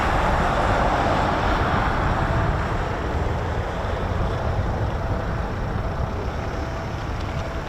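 A Eurofighter Typhoon FGR4 jet lands at RAF Coningsby using aero braking, a loud, steady broadband roar that holds for the whole stretch and eases only slightly toward the end.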